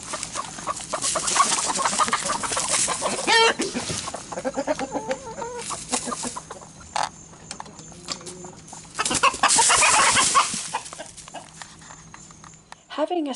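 Chickens clucking and squawking inside a chicken coop, agitated calls coming in bursts at close range, with a person talking over parts of the commotion.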